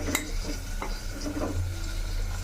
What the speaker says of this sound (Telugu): పుల్లగన్న ముక్కలు ఒక 2 సెకండ్లు అలా ఆయిల్లో వేగనివ్వండి.